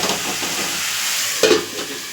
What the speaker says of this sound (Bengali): মাছটা দিয়ে দিলাম, ঢেকে দিলাম